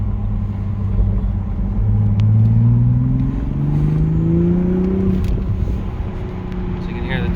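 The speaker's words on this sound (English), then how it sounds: "So you can hear the turbo a little bit" Stock turbo on a 2021 Toyota Supra heard from inside the car while driving, a steady engine drone with rising whine as it accelerates, faint turbo spool under the road rumble.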